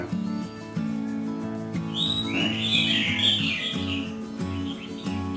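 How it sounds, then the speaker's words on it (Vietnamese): A baby bird calls near a window outside a house during the breeding season, with thin high chirps over a steady background of music-like tones. "chim con đang kêu ở đâu"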